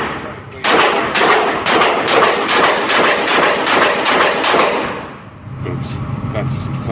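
Gunshots at an indoor shooting range from the neighboring lane, about eight sharp, loud reports fired in quick even succession, followed by a quieter stretch with low background noise and faint talk.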